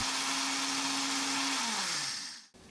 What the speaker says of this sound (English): Grind the 250 grams of mung bean into flour.